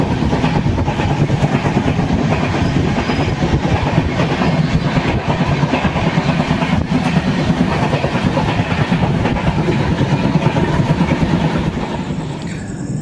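A moving passenger train, the Kashi Tamil Sangamam Express, rumbles loudly and steadily with continuous rail clatter and wheel noise throughout, no talking.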